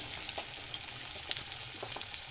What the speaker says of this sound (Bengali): তেল তেতে গেছে, আমি বড়াগুলো দিয়ে দেবো।